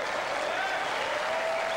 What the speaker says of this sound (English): And a big round of applause for these two.